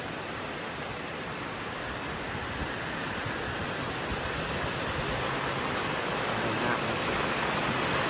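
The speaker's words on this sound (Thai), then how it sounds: "บรรยากาศฝนตกบ้านเฮาพี่น้องตกจัก3 ชั่วโมงเนี่ยเด้อ" Steady, dense hiss of heavy rain pouring continuously in Thailand, a broad wash of noise with no voices or breaks.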